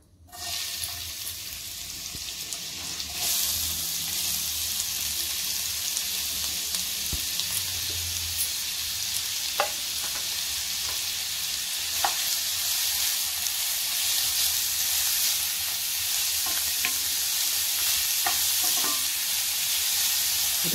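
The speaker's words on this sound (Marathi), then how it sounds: "तेल गरम झालं की आपल्याला कांदा परतायचा आहे।" Onion sautéing in hot oil for prawn hariyali, a steady close sizzle that swells after a few seconds and continues, with occasional clicks of stirring and no talking.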